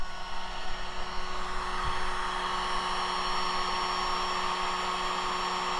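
A 1500 W electric heater on its high setting, powered through an ALFFAA 12 V pure sine wave inverter, blows with a steady, even fan whoosh and a faint tonal hum, constant and unbroken throughout.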